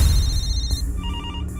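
An electronic telephone ringtone chimes in steady high-pitched repeated tones over a low background rumble, shifting to a slightly lower pattern partway through, with no one speaking.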